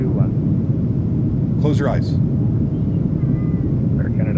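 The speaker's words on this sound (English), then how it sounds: "Tell me it doesn't sound like we're on an actual airplane right now." Steady loud low-pitched cabin roar of a United 737-800 in flight in the PMDG 737-800 flight simulator, continuous throughout, with a person speaking briefly over it and a few faint chimes.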